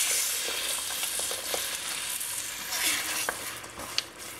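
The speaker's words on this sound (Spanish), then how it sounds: "Después de freír esta pasta por unos minutos y que cambia de color ligeramente, vamos a agregar lo que hicimos con las hierbas." Green mole paste with herbs fries and sizzles in a pan while being stirred, giving a steady bright hiss with occasional scraping and clicking of the spoon.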